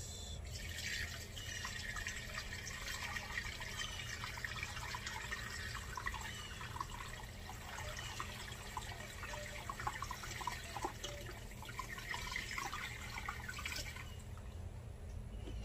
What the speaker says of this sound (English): So now what we're gonna do is we're going to fill it up with water.